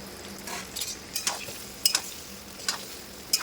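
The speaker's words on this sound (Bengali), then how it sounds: "এবার এই আমগুলোকে দিয়ে দেবো।" Sun-dried mango pieces dropped and stirred into spices for a mango pickle, with soft scraping and a few sharp clinks of a utensil against the pot.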